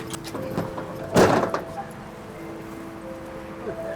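A lorry trailer's rear doors are pulled open during a motorway police stop, with a sharp metallic clunk and rattle of latches midway, then quieter mechanical sounds under low background noise.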